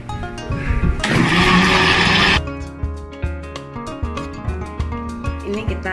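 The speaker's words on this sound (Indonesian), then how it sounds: "Terus kita blender ya." A kitchen blender whirs loudly for about a second and a half, mixing pulled coffee with ginger and lemongrass, then cuts off, leaving music with a steady beat in the background.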